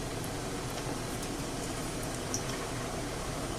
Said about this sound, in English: put in a couple or three, and once they start bubbling, I'll know the oil is ready to add the rest